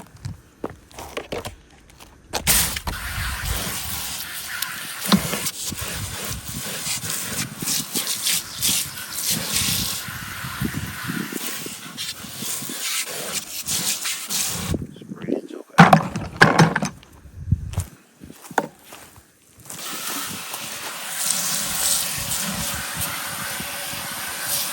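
Pressure washer spraying water on a T-top Buick Regal, a loud continuous hissing gush that shifts and breaks as the spray moves across surfaces, with brief pauses and splashing.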